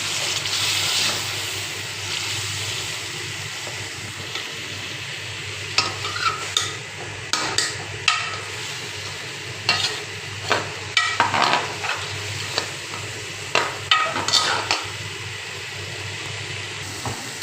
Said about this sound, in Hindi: तो हम इसको अच्छी तरह जो है मिक्स करके भून लेंगे।